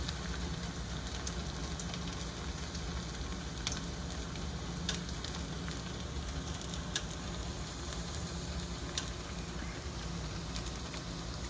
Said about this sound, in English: Put it in the oil. And let them to fry.